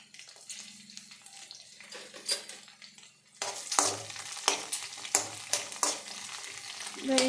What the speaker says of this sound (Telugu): వేయించుకోవాలి బాగా కొంచెం